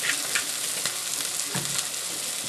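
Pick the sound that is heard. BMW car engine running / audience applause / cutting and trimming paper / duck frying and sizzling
duck frying and sizzling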